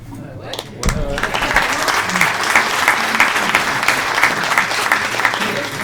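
A crowd breaks into sustained applause that swells quickly and carries on steadily, with some voices mixed into the clapping.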